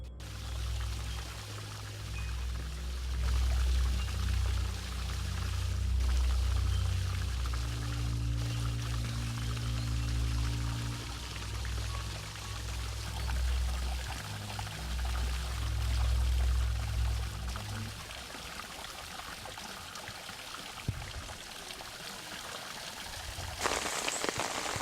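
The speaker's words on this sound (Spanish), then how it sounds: "El cielo se oscurece y la lluvia se abate sobre el bosque encendido." Heavy rain pouring down over a forest, a steady, dense, close downpour that hisses continuously for the whole stretch, with a low rumbling layer beneath that drops away near the end.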